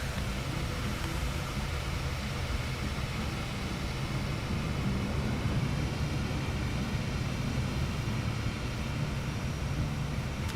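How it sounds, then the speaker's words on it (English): A steady, broad jet roar from an airliner taking off at Anchorage International Airport holds evenly throughout, sounding moderately distant, with no talk. "So you can get a shot at Nighthawk's takeoff here."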